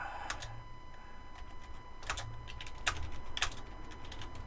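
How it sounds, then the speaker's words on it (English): Keys on a PC keyboard clatter in quiet, irregular clusters of clicks at close range, with no voices over the tapping. "I want to be able to use my PC keyboard to type."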